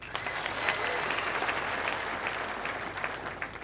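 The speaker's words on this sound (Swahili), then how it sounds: "Mpigeni makofi." A crowd at a political rally claps continuously, a dense, moderately distant wash of applause that holds steady, with a faint voice underneath.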